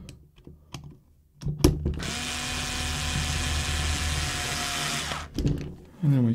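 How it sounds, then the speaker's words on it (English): Screws are driven into a Kyosho SC6 RC car: a few small clicks and taps, then a steady, close mechanical whir lasting about three seconds before cutting off into more light handling noises. "So what I'll do is I'll just do up these screws here, just to sort of hold it in place."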